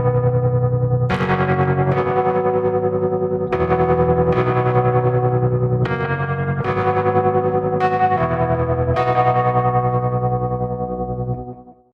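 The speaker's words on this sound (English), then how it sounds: "Then the EP Bethel, same Rhodes sound, but with some effects." Rhodes electric piano run through effects such as chorus and echo, playing sustained chords that swell and shimmer, loud and close and heard alone before a fading tail.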